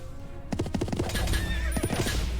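Horses whinny in the video game Symphony of War, with a sharp neigh and rapid clattering hoof or battle sounds over about two seconds, loud and close.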